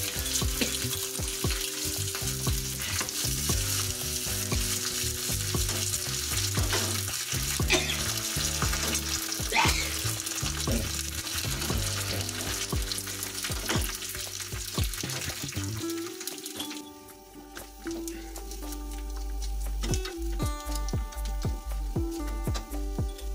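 Chopped garlic fries in a pan for a Rajasthani veg dal, producing a continuous close sizzle with clinks and scraping of utensils. Near the end, a lower hum and tap-water sounds come in.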